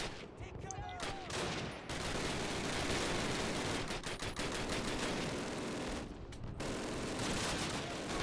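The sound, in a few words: gunfire in Call of Duty (2003) video game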